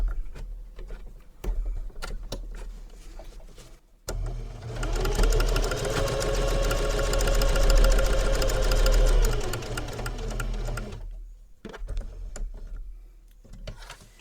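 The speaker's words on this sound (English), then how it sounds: "We're going to sew down this line here and then go back and sew going the other way." A domestic sewing machine sews a seam on a travel belt, a steady mechanical whir of several seconds between quieter clicks and handling sounds before and after.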